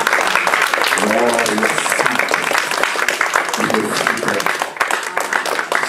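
A church congregation applauds and cheers for Jesus at a French-language service, dense steady clapping and voices filling the whole stretch at close range, with shouting rising above the crowd noise.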